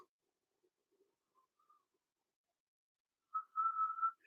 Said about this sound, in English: I developed this mouthpiece whistling technique where you don't whistle in the mouthpiece